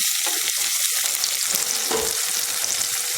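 Steady sizzling of tomatoes sautéing in a pan, a continuous close crackle with a brief stirring scrape partway through.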